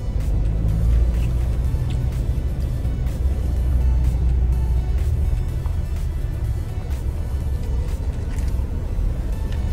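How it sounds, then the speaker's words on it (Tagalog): Cars idle and creep along in heavy, congested road traffic, a steady low engine rumble heard from inside a vehicle with no talking. "Yan guys, sobrang traffic."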